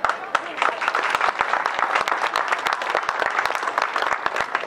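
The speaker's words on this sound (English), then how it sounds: "That's applause for you." At an outdoor Terry Fox Run event, a crowd claps in a dense patter of sharp, close hand claps, with a voice speaking over the applause.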